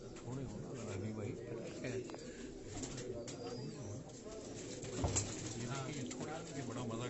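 Rani breed pigeons coo in a Karachi pigeon-keeping setting, soft repeated throaty coos heard under someone talking throughout.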